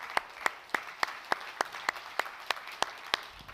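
Applause for the judges at a live beer-industry event: one close pair of hands clapping evenly, roughly three claps a second, moderately quiet over a faint room hum with no talk.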